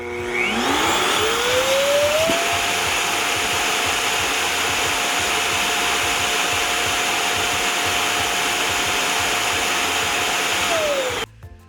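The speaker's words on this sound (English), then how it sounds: "It's going to back up and vacuum out all of the dust that it picked up throughout the day" A robot vacuum's base station empties the dust canister, its motor whining up in pitch, then holding a loud steady roaring suction for about nine seconds before winding down and stopping.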